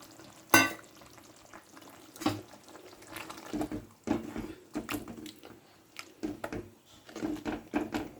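Greens sizzle softly in a pan, broken by scattered bursts of stirring and scraping at an uneven pace.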